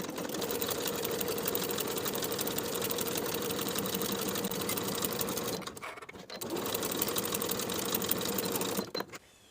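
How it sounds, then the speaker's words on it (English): Sewing machine stitching a seam on a satin tie-front blouse, a fast steady mechanical whir that pauses briefly in the middle and stops at the end; no talk. "We'll sew from the outermost notch, backstitching to secure with a 3/8 inch seam allowance, pivoting to sew to the bottom end of the tie."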